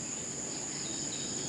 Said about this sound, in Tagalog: Kuliglig, ibon, tuko.